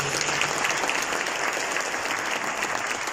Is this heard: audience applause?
yes